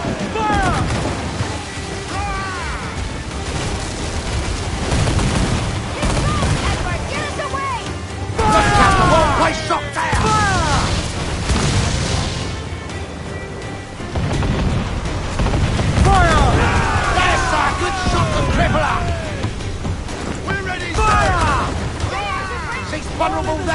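Ship cannons in the pirate video game Assassin's Creed IV Black Flag boom again and again across a naval battle, loud rolling blasts layered with shouting crew voices and steady battle noise throughout.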